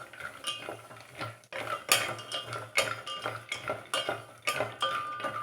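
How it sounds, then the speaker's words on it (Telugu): Dry fruits for semiya payasam are stirred in a pan over low heat, with a spoon scraping and clinking against the metal in quick, irregular strokes, close and fairly quiet, with no voice. "సో వీటిని బాగా కలుపుకుందాం."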